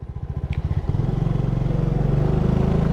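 Motorcycle ridden uphill on a long-distance Thai trip, its engine chugging in a steady pulsing rhythm close by, rising and holding a louder drone after the first second.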